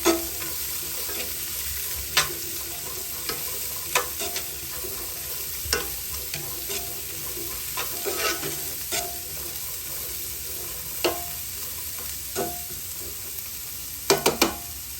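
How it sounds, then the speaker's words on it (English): Onions, carrots and celery sauté in a pan as the base for braised lamb shanks, with a continuous soft sizzle broken by occasional scraping stirs and clinks of a utensil, and nobody speaking. "we just had the onions, carrots, and celery. And just saute it."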